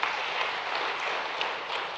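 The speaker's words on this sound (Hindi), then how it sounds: "माननीय प्रधानमंत्री जी का एक बार फिर जोरदार ताली बजा के अभिनंदन करें।" An auditorium audience at a state-level weavers' and artisans' honour ceremony in Bhopal claps loudly for the Prime Minister, a brief, dense and steady burst of applause.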